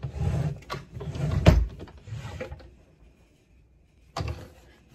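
A drawer slides open and shut with wooden rubbing and scraping, a sharp knock in the middle, then a pause before a short final slide near the end.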